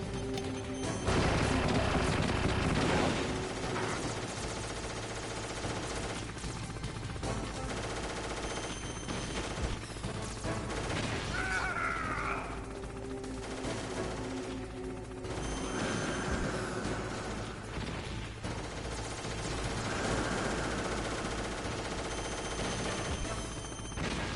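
Gunfire in Metal Gear Solid comes as bursts of rapid shots and crashing impacts, loud and dense at first and then recurring in volleys, mixed with game music and effects.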